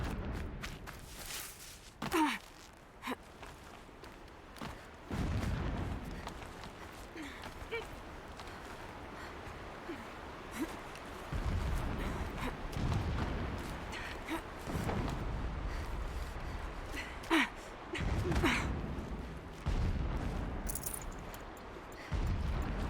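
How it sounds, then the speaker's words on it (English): Distant explosions rumble through a video game, with several low booms and thuds scattered across a long stretch of steady background ambience. "Explosions in the distance."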